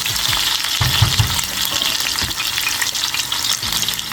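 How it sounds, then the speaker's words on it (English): Onions frying in hot oil for a yam pottage, a loud close sizzle with bursts of stirring and scraping in the pan, continuous with no voices. "I'm just going to put it in for about maybe 2 minutes. And just let it fry a little bit."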